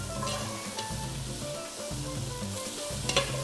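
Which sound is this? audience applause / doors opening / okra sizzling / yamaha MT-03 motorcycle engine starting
okra sizzling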